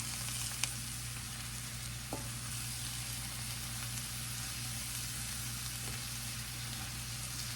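Cabbage frying in a pan with bacon, butter and onions, a constant even sizzle with a few faint clicks from tossing, heard alone without voices.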